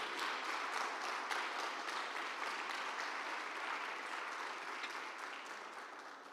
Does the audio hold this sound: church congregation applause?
yes